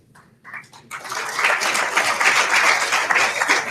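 Applause from an audience at a men's soccer awards reception, starting with a few scattered claps and swelling within a second into steady, dense clapping that holds loud and even to the end.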